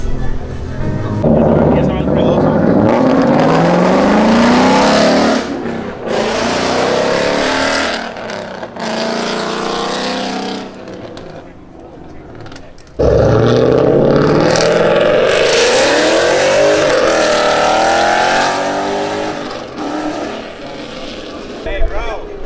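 A loud 2000 Ford Mustang engine roars and revs hard in two long bursts, rising in pitch as it accelerates, with a brief lull between them and voices talking over it.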